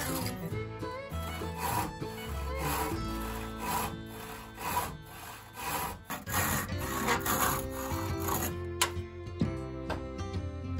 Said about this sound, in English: Once completed, I trim the overhang from the legs.